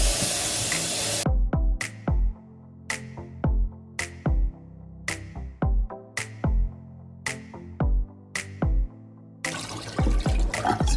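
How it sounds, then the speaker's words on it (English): Cold tap water runs in short bursts at the start and end while brown rice is washed, with a stretch of plucked, melodic music playing between the splashes. "You're gonna wash it in cold water."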